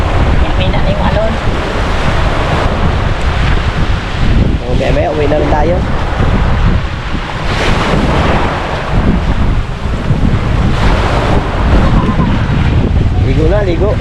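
Loud, constant wind and surf at the shore roar together without a break, wind buffeting close up, while people talk over the waves now and then.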